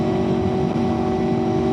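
Honda VFR800fi motorcycle engine running steadily on a dawn road ride, a continuous droning hum with wind noise, loud and close throughout.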